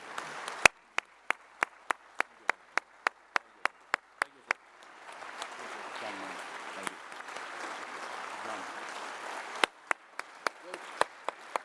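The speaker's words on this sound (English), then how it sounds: "we give a huge round of applause to Wilmot for all the work he has done" Applause at the Worldchefs General Assembly honoring Wilmot for his work; sharp, widely spaced individual claps near the microphone come first, then a softer wash of crowd clapping with murmuring voices, and the distinct claps return at the end.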